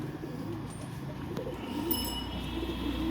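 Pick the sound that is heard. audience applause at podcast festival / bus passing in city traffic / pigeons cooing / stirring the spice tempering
pigeons cooing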